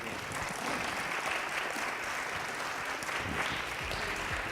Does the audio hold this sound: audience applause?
yes